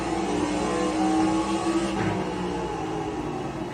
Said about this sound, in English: It was like 2 to 3 upshifts and then a downshift.